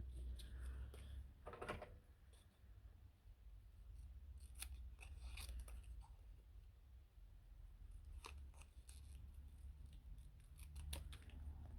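Small scissors snip out a tiny paper craft piece for a miniature room, a series of faint, close, crisp cuts spread irregularly over a quiet background with no speech.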